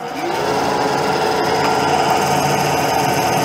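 A lathe cuts a brass tub drain adapter with a steady, continuous high-pitched mechanical whine and hum that holds level throughout, with no talking.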